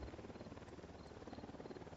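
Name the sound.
helicopter flying overhead in the video game Ghost Recon Wildlands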